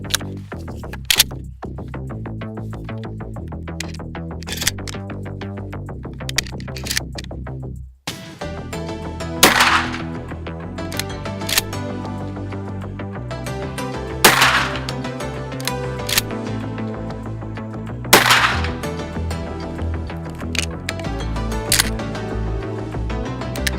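Shotgun firing Baschieri & Pellagri Red Shock wild boar slugs outdoors: several sharp, loud single blasts spaced seconds apart, with quieter clicks and handling noise between them.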